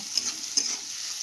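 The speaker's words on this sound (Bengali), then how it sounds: "তারপর দিয়ে দেবো বেশ খানিকটা পেঁয়াজ কুচি। এটা খেতে না দারুণ টেস্টি হয় বন্ধুরা। এটা একটু লাল লাল করে ভেজে নেব।" Chopped onions frying in a pan, a steady near hiss of hot oil with two brief scrape-like clicks from stirring, no voices.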